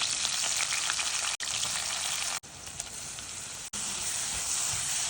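Sharp, crackling sizzle of lentils frying in hot oil for tempering, steady and close, broken by a few brief cuts.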